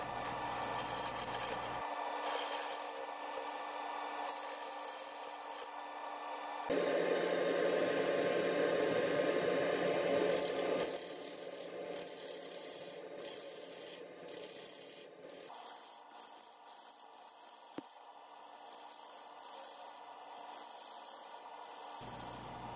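A large Carter & Son bowl gouge shapes the sides and bottom curve of a maple bowl on a wood lathe, giving a steady close rasping, rubbing scrape that shifts in tone as the cut changes, with no talk.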